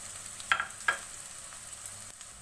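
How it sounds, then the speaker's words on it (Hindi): Sliced onions fry in hot oil with a quiet, steady sizzle, broken by a couple of brief stirring clicks near the start. "प्याज अच्छी गोल्डन फ्राई हो रही है।"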